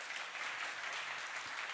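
A church congregation at a young adults' Sunday service gives a short, dense round of applause. The clapping is steady and continuous, and no one speaks over it.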